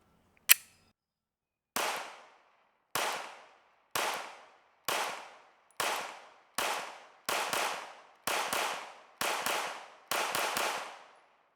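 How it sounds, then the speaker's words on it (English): Fifteen rounds from a Hellcat Pro Comp pistol at a shooting range: one lone shot, a pause, then a steady string of loud, sharp reports that quicken toward the end, each with a short ringing decay and no talking. "first shots with the Hellcat Pro Comp"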